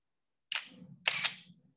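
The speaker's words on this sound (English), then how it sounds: "when I click the shutter," Two crisp mechanical clicks about half a second apart from a film camera's focal plane shutter fired at a slow speed, each a sharp snap with a brief rattling tail, close and alone in a quiet room.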